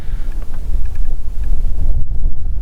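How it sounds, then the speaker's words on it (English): Strong wind buffets the microphone at an outdoor rifle range, a loud, continuous low rumble with gusty swells and faint higher rustling. "there's a wind and it looks pretty strong."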